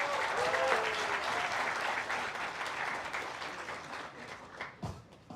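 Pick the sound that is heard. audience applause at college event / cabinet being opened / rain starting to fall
audience applause at college event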